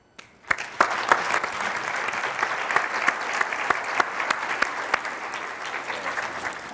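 An audience claps to welcome two speakers at a medical talk on high-risk mothers and newborns. The applause starts sharply, then holds as steady, moderately loud clapping from a medium-sized crowd with no voices over it.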